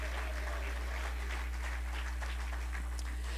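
A church conference congregation claps steadily, a dense crackle of applause held for several seconds at moderate volume over a low constant hum.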